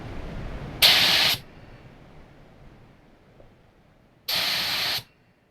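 A TMEI 5500 spray gun sprays dark green paint at 29 psi in two short, sharp hissing bursts about three seconds apart, each lasting roughly half a second, with near silence between them.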